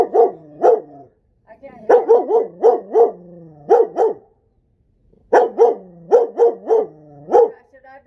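A female dog barks close and loud in two quick bursts of sharp, yipping barks, separated by a short quiet pause.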